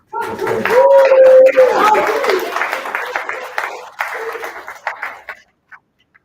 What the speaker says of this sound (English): give a round of applause to Miss Patricia Franklin